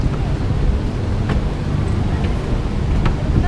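A steady low boat motor drone runs throughout under wind and water noise near the Cayman Islands, with faint splashes now and then and no clear talk.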